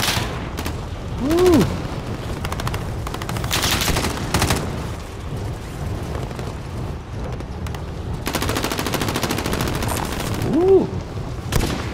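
Repeated bursts of automatic gunfire in Call of Duty: Modern Warfare's Plunder mode crackle across the whole span, loud and near, with a voice briefly calling out twice.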